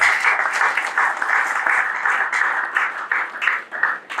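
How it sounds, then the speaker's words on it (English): A round of applause from an online alumni talk audience, steady dense clapping from several people lasting about four seconds, close and without speech. "Let's give him a round of applause."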